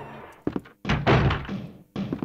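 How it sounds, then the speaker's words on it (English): Zombies bang on a window in the Resident Evil video game: a series of heavy, close thunks in irregular bursts, each dull impact following the last after a short pause. "they're banging at the window"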